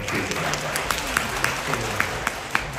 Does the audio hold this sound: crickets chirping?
no